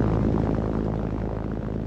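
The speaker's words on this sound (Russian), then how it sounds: "которые рисуют в небе вот такие пируэты на четверке поршневых самолетов «Як»" Four piston Yak aircraft performing aerobatics at an air show, a loud continuous propeller engine drone with slight pulsing, steady and fairly close, without speech.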